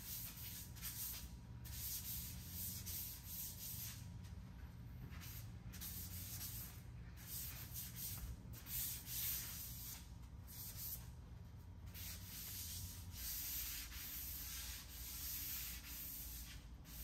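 Steady, continuous sanding rasps back and forth across vinyl sealer primer on a wooden coffee table, a close, dry scratchy hiss with no talking.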